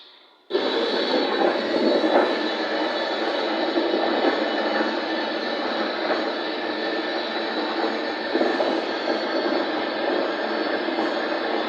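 A Turkish Airlines airliner gives a steady, fairly faint engine roar that holds at an even level from start to finish, with no speech.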